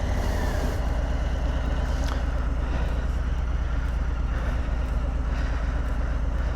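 A 2020 Harley-Davidson Softail Street Bob, nearly new with only a few dozen miles on it, runs steadily at idle with a constant low rumble, close by and alone.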